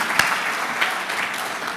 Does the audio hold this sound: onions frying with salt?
no